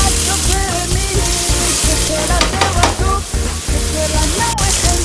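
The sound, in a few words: onion and garlic frying in a pan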